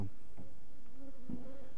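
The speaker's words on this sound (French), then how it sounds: "Et j'ai écrasé une abeille, bravo Eric." Honeybees buzz steadily around a beehive super used for queen rearing, a continuous close drone with individual bees passing near and away.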